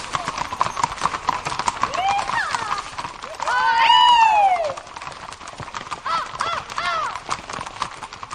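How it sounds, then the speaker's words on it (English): A file of trail horses leaving camp for a wooded ridge ride clip-clops steadily along the trail, with a horse whinnying clearly in the middle and someone talking over the hoofbeats. "still the horses are excited to head out on the trail"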